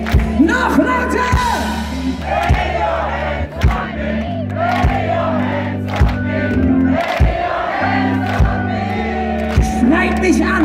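Concert crowd at a show yelling and roaring loudly and continuously over steady low music, with repeated surges of whoops and shouts throughout.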